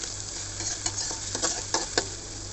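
Plenty of chopped onion fries in oil for a pangas fish dish, giving a soft, steady sizzle. A spoon scrapes against the pan in a few short stirring strokes, close by, with no talking.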